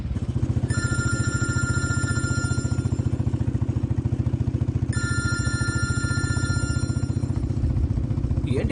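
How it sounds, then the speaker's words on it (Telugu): A phone ringtone for an incoming late-night call repeats in two clear bursts of bright electronic tones over a steady low drone. No one speaks. "ఏంటి అర్ధరాత్రి ఇప్పుడు నాన్న ఫోన్ చేస్తున్నారు?"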